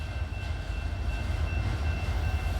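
An old train rolls through the small town of Bald Knob, Arkansas, giving a steady, loud low rumble with faint high whining tones that holds evenly throughout, with no talking.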